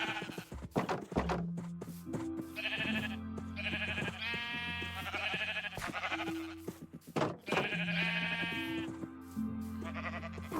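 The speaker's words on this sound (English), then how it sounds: "That's a good amount of sheep." Minecraft sheep bleat again and again, several wavering baa calls from near and far in a loose, irregular rhythm, with soft thuds of footsteps between them and no talking.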